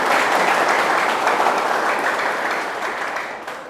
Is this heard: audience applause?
yes